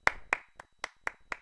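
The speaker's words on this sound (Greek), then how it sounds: "Ένα χειροκρότημα." Six separate, sharp hand claps from one person, evenly spaced about a quarter second apart, close and clear against near silence.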